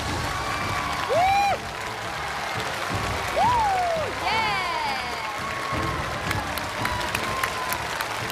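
A studio audience applauds after a successful banknote-counting challenge on a television show, with steady clapping and light cheering while a voice carries over it and swooping music tones sound.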